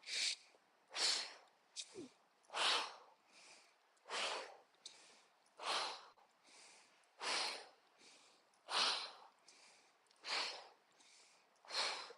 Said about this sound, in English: especially if you kind of exhale out the mouth